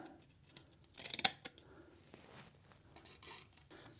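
Scissors trim a piece of hardened epoxy on a mixed media clay sculpture, giving a few close, sharp snips clustered near the middle against a quiet background.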